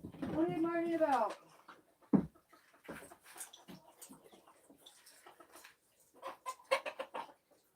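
Chickens cluck in a yard with dogs about, brief clucks scattered through the clip, mostly beneath a person talking nearby.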